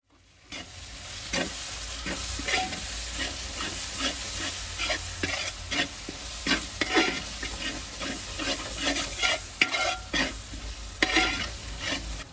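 A masala of chili powder, turmeric, garam masala, chicken masala, salt and yogurt frying in a pan for chicken dum biryani, with steady hissing sizzle and repeated scraping stirs throughout, close and fairly loud, no talking.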